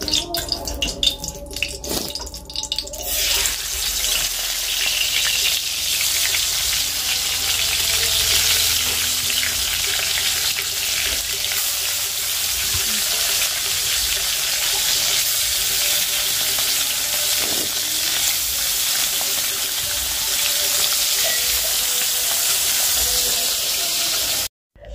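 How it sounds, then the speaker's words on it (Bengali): Fish seasoned only with salt and turmeric frying in hot oil, a steady, close and loud sizzle with bubbling hiss that runs for the whole stretch, with brief stirring and clatter near the start. "এমনিতে শুধু লবণ হলুদ দিয়েই ভেজে নেব"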